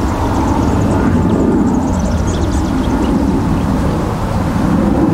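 Loud, continuous broadband engine roar of an aircraft passing close overhead at a golf practice session, steady throughout with no talking.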